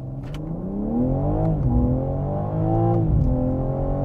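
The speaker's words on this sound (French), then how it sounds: "Je vais vous faire une petite accélération, vous voyez." A BMW M3 Touring accelerating hard, its engine note climbing steadily through the gears with brief dips at each upshift, loud and close from inside the car, with no talking.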